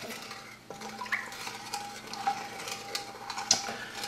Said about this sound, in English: I'm going to start stirring this up.